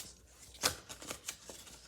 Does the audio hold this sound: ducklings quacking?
no